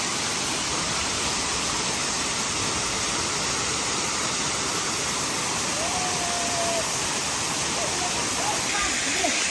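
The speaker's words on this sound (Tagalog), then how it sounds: "Tapos ito yung falls." A waterfall in the Philippines roars in a dense, steady rush of falling water that fills the whole scene, loud and close, with a brief faint voice barely rising above it.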